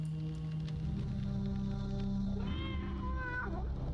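A cat meows in the horror game Tormentum: Dark Sorrow, a rising, wavering cry over the last second and a half, heard against a steady low ambient drone.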